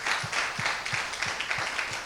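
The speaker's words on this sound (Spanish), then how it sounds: "Un aplauso al Señor" A church congregation claps in a steady, even rhythm, roughly three claps per second, close and continuous throughout.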